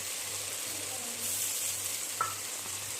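A potato, brinjal and fish curry bubbles and sizzles after milk cream goes in, while a utensil stirs it with soft scrapes and one sharp clink near the end.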